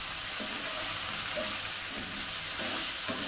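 Okra fries lightly in a pan with a steady, bright sizzle and hiss that keeps going, and soft stirring or bubbling pops now and then.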